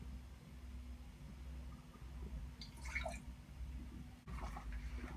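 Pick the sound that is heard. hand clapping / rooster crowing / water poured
water poured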